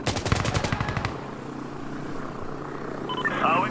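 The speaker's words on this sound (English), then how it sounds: "they're shooting at us" Rapid automatic gunfire in Insurgency: Sandstorm, a fast rattling burst for about a second that then gives way to a quieter rumbling battlefield backdrop.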